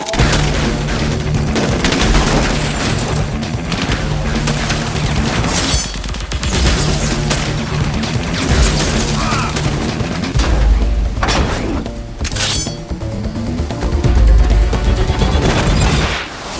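Film fight scene gunfire, dense continuous bursts of shots with booms, crashes and thuds layered over loud score, almost no letup across the clip.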